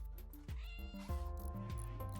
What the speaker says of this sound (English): The cat noise.